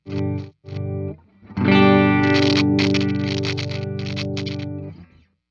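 A 1980 Gibson Les Paul Standard on its neck pickup plays two short plucked notes, then a sustained, slightly distorted chord with strummed accents that rings out and fades.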